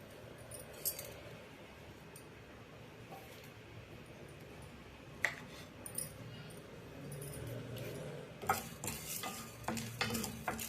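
Dry lentils rattling and stirring as they dry-roast in a pan with a light sizzle, scraping strokes coming and going, louder toward the end.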